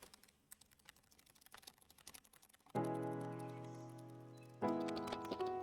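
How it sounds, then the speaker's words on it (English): Rapid clacking keystrokes on a Razer Huntsman TKL Tournament Edition keyboard, the fast irregular patter broken by two loud sustained ringing tones that sound nearby. "this keyboard here, this used to be my main driver"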